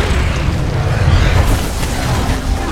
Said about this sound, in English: Enemy payload firing.